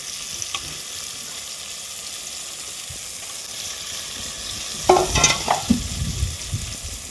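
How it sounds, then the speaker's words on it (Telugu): Small fish frying in hot tempering oil, a steady sizzle running throughout with louder stirring scrapes and bursts toward the end, close by and without talk. "పట్టించి తాలింపులో వేసుకోవాలి."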